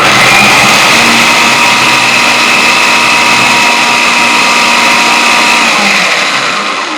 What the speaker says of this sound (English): Same old mixie, just a new jar with a chopping blade does this entire magic.